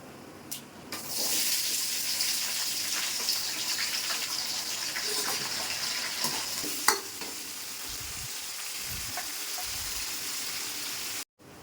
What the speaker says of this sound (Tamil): எண்ணெய் ஊற்றிட்டு சோம்பு போட்டேன் ஃப்ரெண்ட்ஸ். பொரிஞ்ச உடனே வெங்காயம் போட்டுக்கலாம்